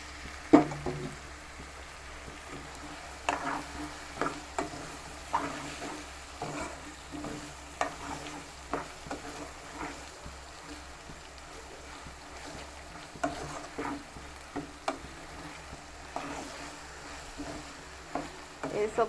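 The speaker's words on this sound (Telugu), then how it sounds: "అల్లం వెల్లుల్లిపాయ పేస్ట్ వేసుకుంటున్నాను." Ginger-garlic paste and tomatoes frying with cucumber pieces and mutton, a low steady sizzle broken by repeated scraping strokes of a spoon stirring the pan, close and moderately loud with no talk.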